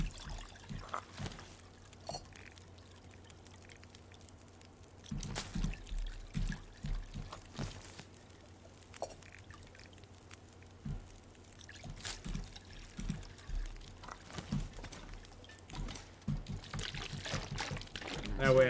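Water pours from a container into a cooking pot in the survival game The Long Dark, a soft, uneven trickle and splash running through the clip among faint background sounds and a few sharper knocks.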